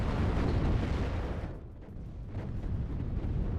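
Artillery and gunfire explosions from the WARNO real-time strategy game, a dense continuous rumble of blasts and booms that dips briefly, then builds back to a loud, sustained barrage.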